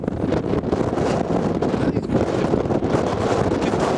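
Strong wind buffets the microphone on a cliff-top walk in a steady, roaring rush with gusty surges throughout, loud and close, with no voices.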